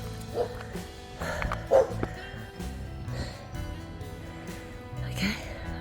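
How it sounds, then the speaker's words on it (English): A dog on a bush walk near a campground by a river barks and yips a few times, close by and mixed with a person talking and the rustle of walking outdoors. "My dog."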